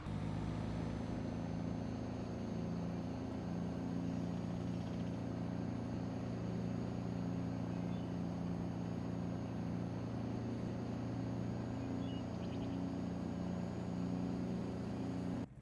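Steady engine drone of a car being driven in the farming video game Farming Simulator 22, a continuous low hum with even loudness and no talk throughout.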